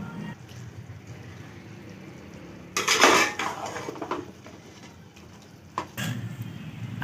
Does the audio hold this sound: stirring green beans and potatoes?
yes